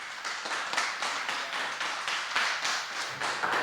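An audience at a technical talk about building a conference badge gives a round of applause, a dense, even spread of clapping that holds steady for several seconds without voices.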